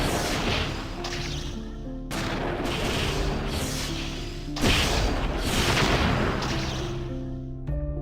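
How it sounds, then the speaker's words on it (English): Sulfur items exploding in the online game Mabinogi, a series of loud booming blasts, each followed by crackling debris, with no talking. "the sulfur ones explode"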